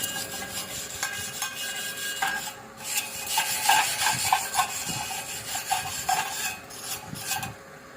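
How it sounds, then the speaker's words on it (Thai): A wire brush scrubs over steel in close, continuous rasping strokes, with a rhythmic scratchy texture and no talk. "เดี๋ยวใช้แปรงลวดนะครับ ขัดดู"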